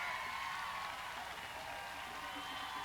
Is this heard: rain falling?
no